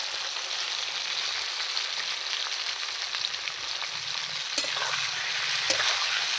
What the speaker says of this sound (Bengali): ভালো করে এবার পেঁয়াজ ক্যাপসিকাম আলুর সঙ্গে নাড়াচাড়া করে নেব।